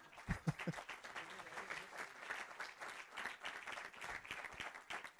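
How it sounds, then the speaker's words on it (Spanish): Steady applause from a crowd fills the room, with a few louder claps near the start, fairly soft and distant. "así que un aplauso"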